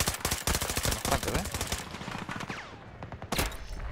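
Automatic gunfire in the Battlefield 2042 video game: loud, rapid bursts of shots crackling close by, thinning into scattered single shots before a final burst.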